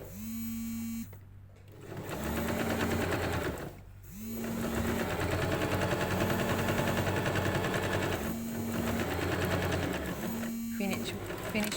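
A sewing machine stitches a plain hem in long bursts of rapid mechanical chatter, pausing briefly between runs, close and loud throughout.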